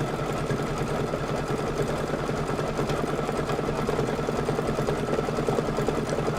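A sewing machine stitches quilt fabric for a table topper, a steady continuous mechanical hum and rapid needle chatter running unbroken and close throughout.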